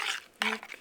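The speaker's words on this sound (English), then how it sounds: "Mix it all together." Ingredients for a low-carb barbecue sauce being mixed together, two or three quick, faint swishing scrapes in close succession.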